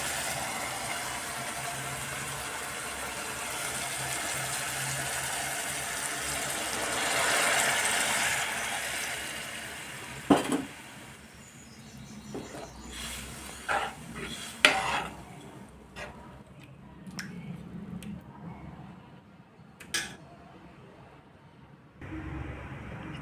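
Soaked tamarind pulp is poured into a pot for Godavari-style fish curry, a long rushing liquid pour that fades out and gives way to sharp spoon and vessel clinks and scrapes.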